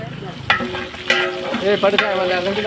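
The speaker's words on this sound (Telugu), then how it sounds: "ఆయిల్ వేసి ఎండుమిర్చి, ఆవాలు, జీలకర్ర, కరివేపాకు అన్నీ ఇలా పోపు దినుసులు వేసిన తర్వాత అందులో పచ్చిమిర్చి వేసారండి" Green chillies frying in hot oil with dried red chillies, mustard seeds, cumin and curry leaves on a wood-fired stove, giving a close, loud sizzle with stirring scrapes and a few sharp crackles.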